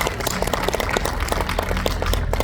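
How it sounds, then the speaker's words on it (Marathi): An audience claps at a yoga gathering, a brisk, dense patter of many hands at steady loudness with no talking over it. "त्यांच्यासाठी जोरदार टाळ्या."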